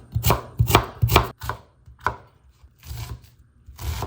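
An onion is chopped with a knife on a board, a quick run of sharp close taps, then a brief pause and a few more scattered cuts.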